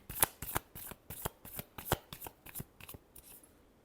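Tarot cards being shuffled by hand make a quick rhythmic run of about a dozen crisp riffling snaps, close and clear, with no voice over them.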